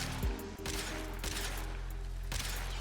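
Euphona Prime hand cannon shots in Warframe, four heavy booming blasts spaced irregularly over a low steady hum, each with a sharp crack and short decay.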